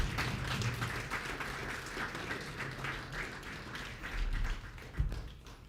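Audience at a payment app launch event clapping in a dense, steady patter of many hands, moderately loud, with a sharper clap standing out near the end.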